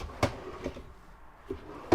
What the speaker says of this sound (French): Les tiroirs.